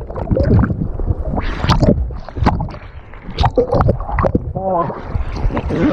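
A kayak in white water, with loud close splashing, rushing water and paddle strokes churning continuously, heard from the paddler's point of view with a person speaking over the noise.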